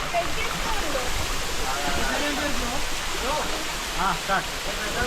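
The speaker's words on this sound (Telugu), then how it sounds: "చాలా పైన అయితే వాటర్ పడుతున్నాయి" Katiki waterfall in Araku pours in a constant broadband rush, with faint voices of people nearby mixed under the steady roar of falling water.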